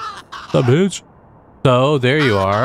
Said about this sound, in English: All right, there's a crow.